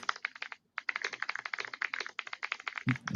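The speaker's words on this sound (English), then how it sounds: "some quick typing." Fast, close typing on a computer keyboard: a dense run of crisp key clicks with one short pause, then a brief low thump at the end.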